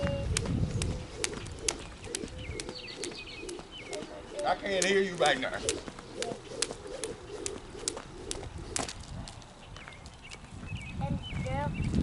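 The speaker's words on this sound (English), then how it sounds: "Birds chirping." Pigeons coo softly amid scattered bird chirps, with a person talking over them and sharp rhythmic taps in the background.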